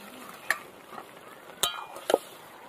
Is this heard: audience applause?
no